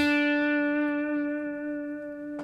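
A sustained guitar note rings out with a delay effect, faint echoes repeating softly beneath it as the tone slowly fades.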